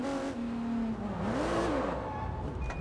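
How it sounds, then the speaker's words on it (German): A car engine in the video game Sleeping Dogs: Definitive Edition revs up and down, its whining pitch rising and falling steadily over a continuous mechanical roar. "das zeige ich euch, wie die Wagen klingen und so"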